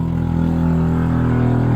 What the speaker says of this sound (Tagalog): Ingay ng motorsiklo na dumadaan mga palangga.